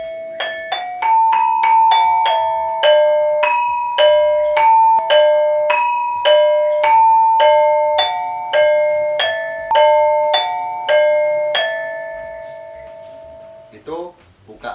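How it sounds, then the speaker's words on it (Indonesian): Cirebon gamelan plays the opening joined with lagu gonjing as a steady sequence of struck metallophone tones, each ringing and decaying, about a dozen even strikes with a shuffle of handling noise at the end. "Apabila kita satukan bukaan dengan lagu gonjing, bunyinya akan seperti ini."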